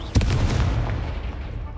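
Confringo explosive spell blasting in Hogwarts Legacy, a loud booming burst at the start followed by a rumbling decay, with game sounds underneath.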